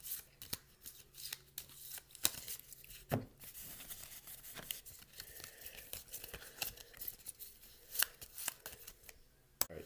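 Playing cards are shuffled and mixed by hand during a card trick, a faint series of quick riffling and sliding bursts at irregular intervals with sharper snaps scattered throughout.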